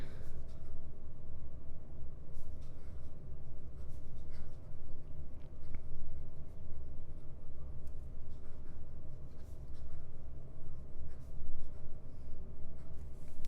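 A Montblanc 145 Classique fountain pen with an S nib writes fast on paper, producing a continuous close scratchy scribble with small ticks, fairly faint and with no speech.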